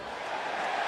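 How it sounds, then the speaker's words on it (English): A loud, sustained crowd roar fills a college football stadium during a 2019 Tennessee Volunteers versus Alabama Crimson Tide game as a punt is made. The dense wall of noise holds steady and swells slightly over a short burst. "And listen to the roar"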